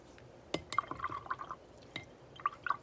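A paintbrush swishes and dips in a small container of water while dissolving watercolor crayon, giving soft close-up splashes and a few clinking taps against the glass.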